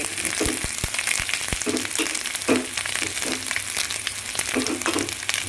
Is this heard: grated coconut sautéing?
yes